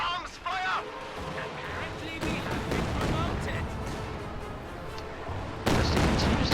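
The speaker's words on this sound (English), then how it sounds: "Dusty continues to fire that Katyusha at maximum range" Katyusha rocket artillery firing at maximum range during a World War II tank battle video game, with rumbling launches and booms layered under a commentator's continuous talk.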